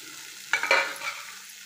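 Ridge gourd vegetable is stirred as it fries in a pan, a brief scrape and burst of sizzle after a quiet start, then fading back to a soft hiss.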